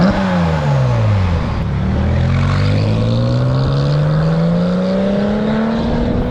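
Porsche 996 Turbo with twin-turbo flat-six and stock exhaust, heard close and loud as a continuous droning engine tone that rises and falls through revs, with no talking.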